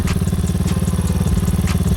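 A Lifan KP Mini 300 motorcycle engine with an upgraded PE28 carburetor idles steadily close by, a loud, even low thumping pulse with faint mechanical clatter and no talk over it.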